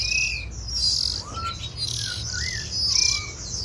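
A male white-eye cage bird of the northern Vietnamese type chirps in bright, high, rapid twittering phrases, close and clear and continuous throughout over a low background rumble.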